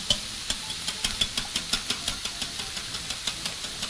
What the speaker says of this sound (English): we're going to proceed to whisk the mixture.